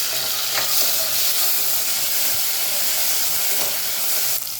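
Garlic, onion and tomato sauté in a pan for a lemongrass tinola, giving a steady broadband sizzle and hiss that runs unbroken for the whole stretch, close and fairly loud, with no talking.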